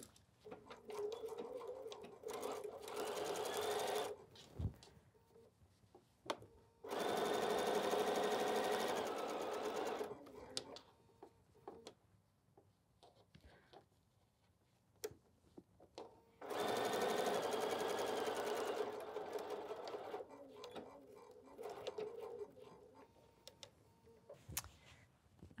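Sewing machine stitching and backstitching across the corner of a quilt block, in two sustained bursts of rapid mechanical whirring separated by quieter handling and clicks, close and fairly loud, with no talk.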